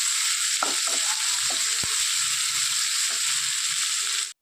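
Onions and green gram sautéing together in a pan for a Kerala thoran, a loud, continuous hiss of frying with occasional spoon clicks and scrapes, cutting off abruptly at the end.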